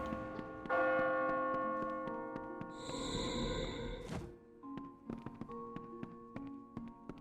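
A bell tower bell in the Kingdoms of Amalur video game tolls loud and ringing, with long sustained strikes that decay, then later softer tones and taps, and no speech.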